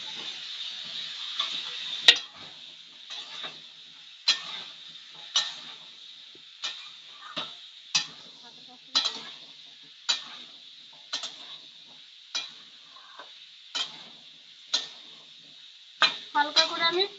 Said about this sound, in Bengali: আলু আর পেঁপে একসাথে আমি ফ্রাই করে নেবো